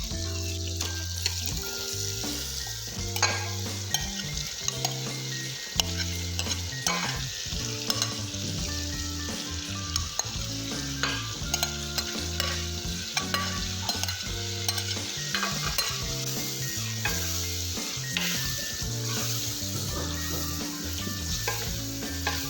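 Marinated bottle gourd stirred into a yogurt gravy in a kadai, a continuous loud sizzle with repeated scraping and clattering of the spoon against the pan, no voices.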